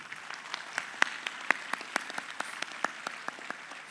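An audience at a school graduation ceremony applauds with moderate, scattered clapping, individual sharp claps standing out above a steady wash of hands, continuous for several seconds without talk.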